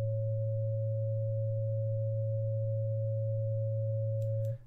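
A steady pure 550 Hz tone holds evenly for over four seconds over a low hum, then cuts off abruptly near the end.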